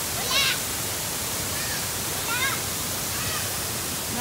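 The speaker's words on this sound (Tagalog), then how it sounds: "Mauni ang Dilubab Falls." Dilubab Falls waterfall at Villa Cascada pouring as a steady broadband rush, with voices chattering faintly over it now and then.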